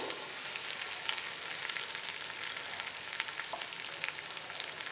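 Potatoes and peas frying in a tomato spice masala for aloo matar, a soft continuous sizzle with scattered small pops and crackles, no talking.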